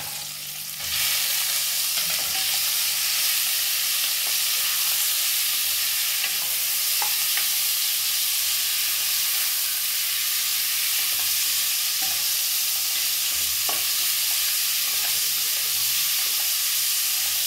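Loud, sustained sizzling as chicken fries in a pan with onions, green chilies and turmeric, with a constant steamy hiss and occasional clinks and scrapes of stirring.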